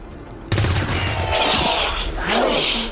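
Gunfire in the video game XCOM 2 erupts suddenly as a loud burst of rapid shots, a sustained barrage with heavy rumbling impacts continuing to the end.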